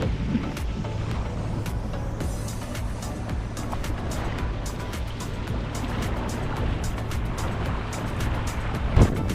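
A boat cruises through the inner harbour marinas of Palma de Mallorca, its steady engine drone and water wash continuous and fairly close, with a brief louder knock near the end.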